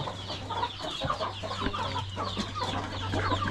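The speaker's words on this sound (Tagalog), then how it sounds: "Ay, mga alaga ni sir na manok." Chickens cluck and chatter steadily over a low droning hum, several birds calling at once at moderate distance.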